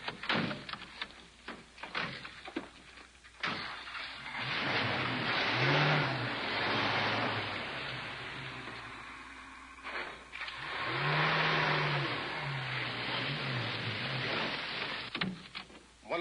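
Truck engine starting and pulling away after a load goes back on, with a couple of door or cargo thuds up front, then rising engine roar that dips and swells again as it drives off.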